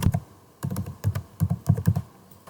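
Typing on a computer keyboard, quick clusters of close, crisp key clicks and thunks in short bursts with brief gaps between, no voice present.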